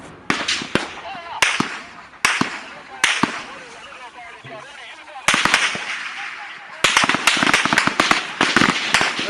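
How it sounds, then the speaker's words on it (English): Gunfire rings out in sharp, loud crack bursts, some rapid and clustered and others spaced by short pauses, with voices shouting in between. "Those who are at the high ground, please stop firing."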